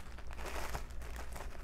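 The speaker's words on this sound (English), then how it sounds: "I'll take a headrest cover and I'll tear it down the seam" A paper headrest cover is torn down its seam, giving a quiet, close crinkling rip that lasts under two seconds with no talk.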